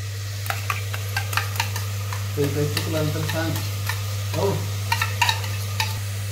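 Onion frying with red chilli and turmeric in a home pan, a soft steady sizzle under spoon scrapes and stirring clinks, with a constant low hum in the background.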